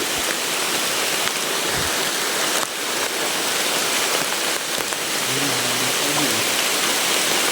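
Heavy rain pours steadily as a dense, unbroken wash, loud and close throughout, with a faint voice briefly in the background.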